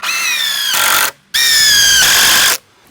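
An impact driver drives screws into wood in two loud, close bursts of about a second each, a rising motor whine with hammering rattle, separated by a short silence.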